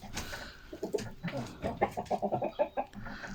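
Chickens cluck in a quick run of short, rhythmic calls, fairly close, with a soft outdoor background.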